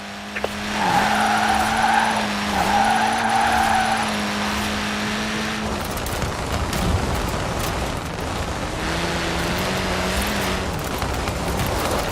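A car power-slides in Forza Horizon 4 with sustained tire squeal and skidding over a droning engine, loud and steady through the first half, then easing into rumbling road noise before a second shorter slide.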